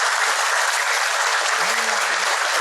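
Large audience of about five hundred at a Buddhist talk breaking into dense, even applause, with a faint low tone briefly rising beneath the clapping.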